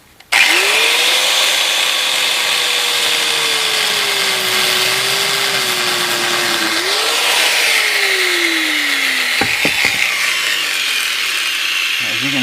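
Angle grinder finishing a cut through a steel wheel rim at home, a loud continuous whine that sags and recovers as the worn disc bites, close by with no talk.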